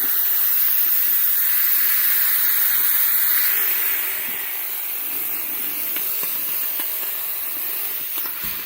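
Mioduro 1400W handheld garment steamer releasing a steady, close hiss of steam that eases slightly in strength partway through, with faint clicks and handling noises underneath.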